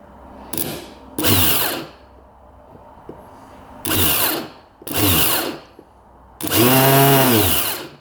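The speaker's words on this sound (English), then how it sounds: "So the starter now works, but it's spinning the wrong way." An ATV starter motor spinning the wrong way whirs in several short, loud bursts, each a few seconds long with pauses between, the last spinning up to a higher pitch.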